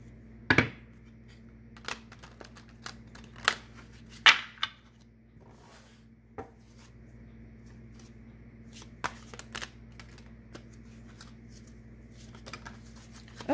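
Tarot cards being shuffled and handled up close, scattered sharp snaps and riffles spread over a quiet background with a low steady hum, no talking.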